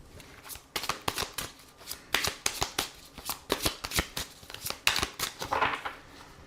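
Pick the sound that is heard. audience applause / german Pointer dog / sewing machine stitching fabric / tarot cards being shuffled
tarot cards being shuffled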